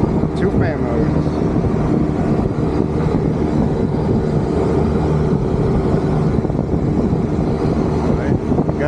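Two fan motors run on a 25-ton Trane rooftop air conditioning unit charged with R410A, producing a loud, steady broadband whoosh and drone recorded up close outdoors.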